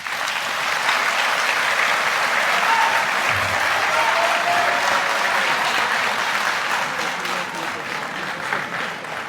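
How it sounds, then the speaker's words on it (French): An audience at a press conference claps loudly and steadily. The dense applause lasts throughout, with a few faint voices mixed into the crowd. "je pense que les applaudissements ne sont pas à la hauteur de la production d'enjeux"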